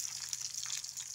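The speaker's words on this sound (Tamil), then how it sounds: "நம்ம எடுத்து வச்சுக்கிற வெங்காயம் சேர்த்துக்கிறோம்." Chopped onions sizzle and hiss steadily in hot oil in a pan while sundakkai kara kuzhambu, a spicy Tamil tamarind curry, is being cooked; the frying is fairly faint and continuous, with no talking.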